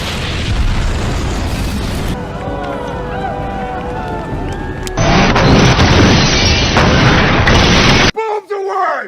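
A loud explosion scene from The Walking Dead TV show: a broad rumbling blast and crashing debris under dramatic music and spoken commentary, then abrupt cuts.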